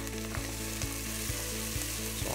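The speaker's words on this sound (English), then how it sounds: "Now that our onions have some caramelization on them, we want to add our garlic." Garlic sizzling in a pan with caramelized onions, a steady continuous frying hiss with regular soft stirring scrapes, close and alone.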